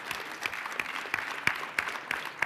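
Scattered applause from a modest audience greets a raffle winner at a web CMS talk, a light, uneven patter of claps with a few distinct sharp hand strikes.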